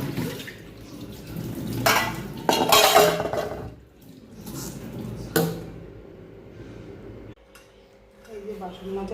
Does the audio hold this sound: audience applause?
no